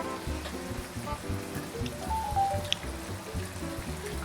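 Boiling water from a pot on the stove is poured into a soy-based brisket sauce, giving a steady close trickle and splash that carries on for several seconds with no talking.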